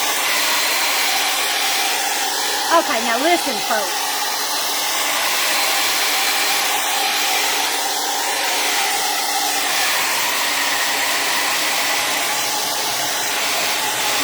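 A hair dryer blows steadily to dry watercolor paint on old book pages, a continuous close airy whoosh lasting throughout, with a brief spoken voice near the start.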